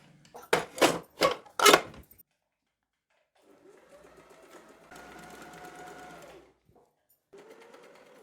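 A Usha sewing machine stitches for about three seconds with a soft, steady whirring hum. Several sharp knocks come first, and a short quieter run follows after a pause.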